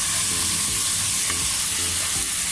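Beef oxtail sinigang simmering in a pot as vegetables are added, a steady loud bubbling hiss that fills the whole moment, with soft stirring knocks underneath.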